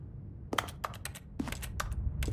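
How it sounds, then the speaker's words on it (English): Rapid clicking from spam-interacting in the video game The Stanley Parable, bursts of sharp clicks in quick clusters with short gaps, fairly close and clear over a low background hum, no talking. "clicking noise is Thomas spam interacting"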